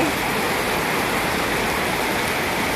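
Heavy rain pours down in a Bangkok soi, a loud, unbroken broadband hiss of water striking surfaces close by, steady for the whole stretch with no pauses.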